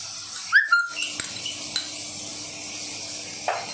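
Chicken sausage is cooked with soy sauce and chilli sauces in a pan on low heat, giving a soft sizzle under a few clinks and scrapes of a spoon stirring against the pan, close and moderately loud, with no talking.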